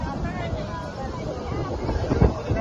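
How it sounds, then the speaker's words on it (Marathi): Strong gusting wind in a sudden rainstorm strong enough to blow umbrellas away, a constant rushing roar buffeting the microphone, with voices faintly underneath. "एकदम वारा पण सुटला आणि पाऊस पण आला."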